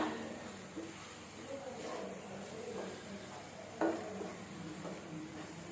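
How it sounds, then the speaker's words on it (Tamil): Mushroom gravy with garam masala is stirred in a kadai: a faint, steady sizzle with soft scraping and one louder clink of the spoon against the pan. "நல்லா கிண்டி விட்டுடலாம்"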